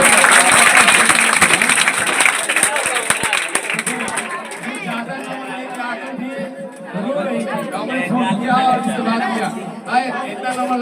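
Enthusiastic applause from an audience at a board exam toppers' event, loud dense clapping at the start that fades into crowd chatter and murmuring voices.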